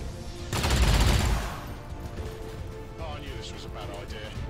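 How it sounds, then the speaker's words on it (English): Gunfire in the turn-based strategy game XCOM 2 (Long War 2 mod), a loud close burst of shots lasting under a second, then quieter mechanical clatter and game sounds under a talking voice. "Two shots."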